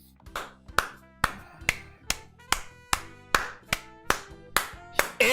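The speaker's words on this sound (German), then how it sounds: "Ich will Applaus sehen." A single pair of hands claps slowly and steadily, about a dozen sharp, evenly spaced claps ringing out close and clear with nothing else around them.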